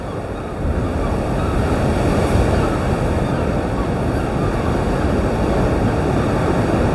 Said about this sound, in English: Oh, some of these waves are getting big now, I tell you.